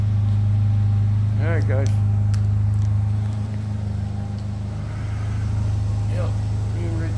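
Custom Slingshot's engine idling with a steady low rumble, close and constant throughout, while someone speaks briefly over it.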